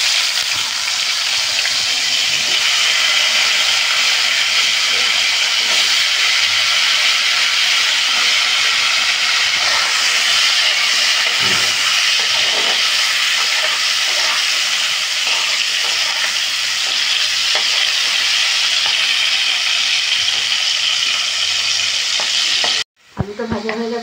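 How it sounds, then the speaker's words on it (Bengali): Potatoes fry in a pan for bhoger khichuri, giving a loud, steady sizzle and hiss with occasional stirring scrapes throughout, then cutting off abruptly near the end. "আলুগুলো ভেজে নিচ্ছি।"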